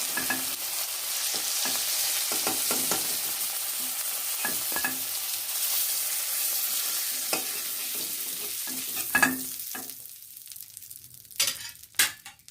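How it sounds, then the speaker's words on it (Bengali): Prawns for Bengali shorshe chingri sizzle steadily in hot oil while a utensil stirs and flips them, with a few sharper scrapes and clinks toward the end. "আমি তুলে নিচ্ছি, উল্টে পাল্টে একটু ভেজে তুলে নিচ্ছি।"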